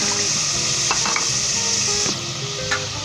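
Spices fry for besan dal with a steady, close hiss of oil and a few sharp stirring clatters and scrapes against the pan, continuous across the whole stretch with no voices.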